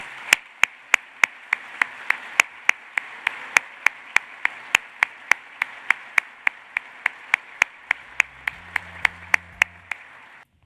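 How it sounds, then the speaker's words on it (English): Clapping rings out at an awards ceremony for citation recipients: sharp, evenly spaced claps in a steady rhythm, loud and close, with a low hum entering near the end. "Please join me for one final round of applause for our 8 citation recipients."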